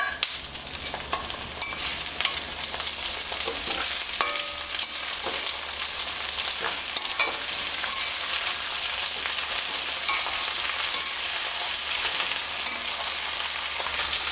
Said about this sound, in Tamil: நல்லா ஆயில் கோட் ஆகிட்டு இதில் நம்ம கட் பண்ணி வச்சுருக்கிற அந்த மடலை போட்டுருவோம்